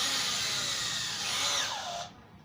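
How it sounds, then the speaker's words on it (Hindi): An electric drill clamped to serve as a small lathe runs with a steady high whine, then winds down and cuts off near the end, close and fairly loud. "इन नट वाली जगह पर हम इसको ड्रिल मशीन में पकड़ लेंगे।"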